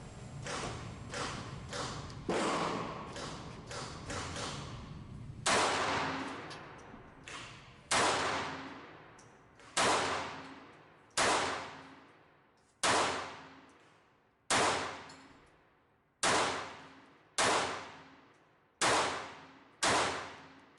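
Roughly a dozen S&W Bodyguard 2.0 pistol shots fired left-handed with an extended 12-round magazine, first in a quick cluster then at a steady, evenly spaced pace, each a sharp loud crack with a short ringing tail.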